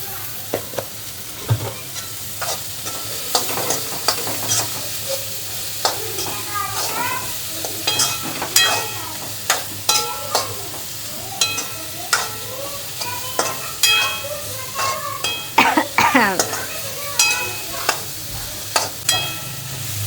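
Vegetables with salt frying in a pan, a busy sizzle with many sharp spatula scrapes and clinks in an irregular rhythm throughout, close and moderately loud, with no one speaking.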